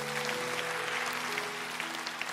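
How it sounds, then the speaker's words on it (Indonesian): Congregation applauding during a Sunday church service, a faint, steady patter of many hands clapping heard from a distance over a low sustained tone. "Kasih tepuk tangan untuk Tuhan."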